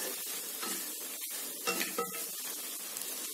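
Carrot and beans being sautéed for egg fried rice in a pan, with soft continuous sizzling and repeated scraping stirs of a spatula against metal, close and moderately quiet.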